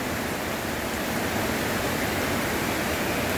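Rainwater after about five hours of rain rushes down a newly formed little creek, giving a dense, steady broadband rush of flowing water that stays loud and even throughout, with no voices.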